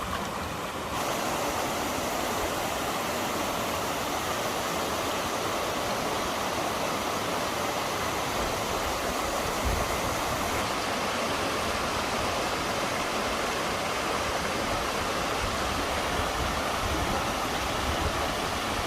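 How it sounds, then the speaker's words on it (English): Steady broadband roar of a waterfall on the Isle of Skye, Scotland, continuous and loud with no breaks, sounding close and unchanging throughout. "Try to get to that waterfall."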